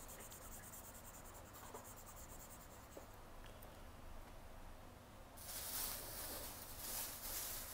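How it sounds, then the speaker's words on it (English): Writing is erased during a math lesson, a soft scratchy rubbing that becomes a louder, brisk hissing scrub in the latter part, with no talk. "Okay, let me erase this."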